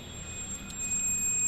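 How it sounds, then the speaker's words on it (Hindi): A continuous thin high beep from a multimeter continuity buzzer sounds while the third wire of a TVS Apache BS6 motorcycle's headlight wiring is tested, steady and fairly quiet. "तो तीसरी पे भी हमारा बजर बोल रहा है।"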